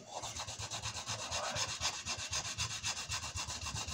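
Close, rapid rhythmic scratching as a small sanding block works back and forth over a motorcycle engine casing, steady even strokes with no voices.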